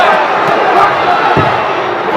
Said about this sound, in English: Crowd trying to egg him on.